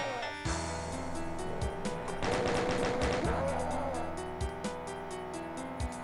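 Chaingunner gunfire in the Doom map Scythe, Map29 Hell On Earth: sustained rapid bursts of machine-gun fire with sharp repeated reports over a steady game soundscape.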